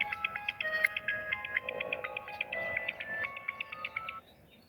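A melodic electronic ringtone plays a repeating chirpy tune for several seconds over a low background hum, then cuts off.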